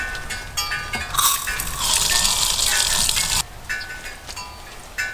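Water gushes steadily from a toilet supply line being bled, swelling to a loud rush in the middle before dropping back to a lighter running trickle.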